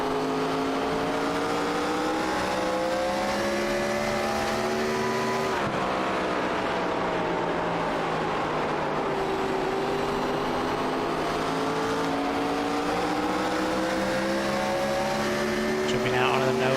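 Race cars lapping Richmond in a racing simulator game, engines droning loudly and continuously with rising pitch sweeps as they accelerate and shift, a brief break midway before the engine note climbs again.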